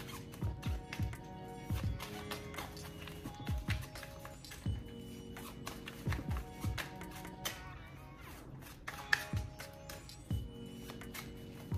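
Tarot cards are shuffled thoroughly by hand, close and quiet, in repeated short riffling bursts with brief pauses between, a light papery flutter over soft background hum.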